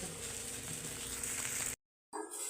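Okra frying in a pan with a tempering of spices, a steady close sizzle with crackling that stops abruptly for a moment near the end, then resumes.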